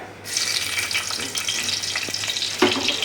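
Garlic being fried in a pan for chicken uppu kori makes a bright, steady sizzling hiss that starts suddenly and holds at an even level, with a few soft knocks partway through.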